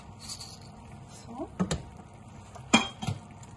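Lid set onto a soup pot while homemade soup simmers, giving a couple of distinct metallic clinks and clatters against low kitchen background noise, with faint voice murmurs.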